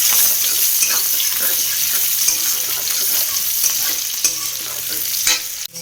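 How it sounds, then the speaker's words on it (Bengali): Onions for chowmein fry loudly in an oiled pan, a dense, constant sizzle close by, broken by repeated scraping strokes of a spatula as they are stirred, with a couple of sharper knocks near the end. "এটাকে ভাজা হোক ভালো করে।"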